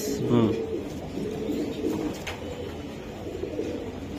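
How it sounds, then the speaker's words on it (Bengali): Racing pigeons in a loft coo in low, soft murmurs, fairly faint and mixed with room noise and background voices. "এই যে দেখেন কবুতর অনেক ভালো কবুতর ভাই, ব্যালেন্স।"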